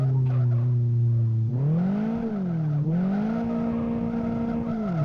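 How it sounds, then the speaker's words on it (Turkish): In the Live for Speed racing game, a Tofaş car drifts with a loud sustained engine drone whose pitch bends and wavers as the tyres squeal through the slides, steady and close with no talking. "Araba her yolda kayıyor."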